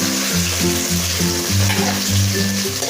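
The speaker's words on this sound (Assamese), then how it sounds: "এতিয়া এই পিঁয়াজখিনি অলপমান ৰঙচুৱাকৈ ভাজিব লাগিব।" Chopped onion fries in hot oil with whole cumin seeds and green chillies, a loud, continuous sizzle with low rhythmic stirring pulses.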